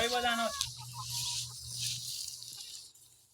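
Chickens cluck and squawk close by in a crowded cowshed, with a loud burst at the start followed by scattered clucks over steady farmyard noise.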